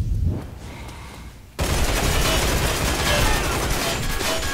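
Sustained automatic P90 fire in the video game Line of Sight during a deathmatch, a dense continuous loud burst that starts abruptly after a quieter moment and keeps going close up.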